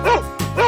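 A cartoonish dog in a 3D animal video game gives two quick, close woofs, one short and one trailing, like a bright game sound effect.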